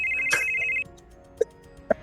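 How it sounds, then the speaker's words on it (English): A telephone ringing on an outgoing call: one steady electronic ring tone that cuts off, followed by two short, sharp beeps over quiet line hiss. "There's a few rings, and then you hear the phone pick up."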